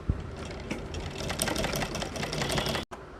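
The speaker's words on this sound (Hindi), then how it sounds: "इस तरह से हमने मोड़ लिया और इस पर सिलाई लगाना स्टार्ट कर देंगे।" A sewing machine stitches the neckline of a boat neck kurti in a fast, even whir of needle strokes that stops abruptly near the end, close and clear with no talking.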